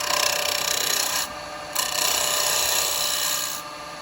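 A woodturning tool cuts across the edge of a spinning yew bowl on a lathe with a close, steady rasping scrape that drops briefly in the middle, then continues.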